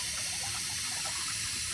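Water pours steadily into a car radiator during a fan clutch replacement, a continuous close gushing and trickling fill with faint bubbling and no voices.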